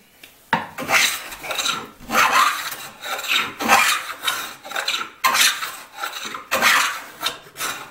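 Cheap Japanese hand plane shaving a wooden board, long rasping strokes repeated about six times in a steady rhythm, close and loud, each pass starting sharply and tapering off, with short pauses between.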